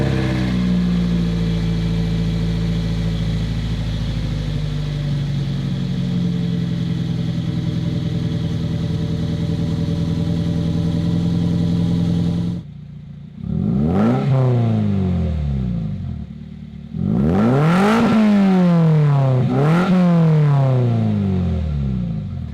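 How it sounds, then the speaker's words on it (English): A 2001 Toyota MR2 Spyder with a raspy aftermarket exhaust idles steadily, then revs up sharply several times, each rev rising and falling loudly up close. "this exhaust is a bit raspier."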